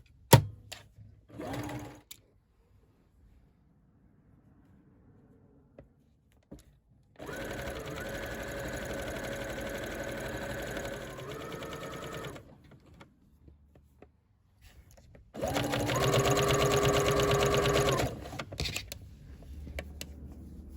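Sewing machine stitching the side seam of a Simplicity coat, two separate steady whirring bursts of several seconds each, the second louder, with quiet handling noises in the pauses.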